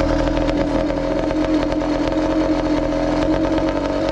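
A two-stroke motorcycle engine with an aftermarket pipe, stock jetting and no air filter, running slightly lean, drones loud and close at steady high revs with a buzzy, rattling edge throughout.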